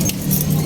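Car keys jingle briefly and close by, a bright metallic rattle over a low background hum, with no talking.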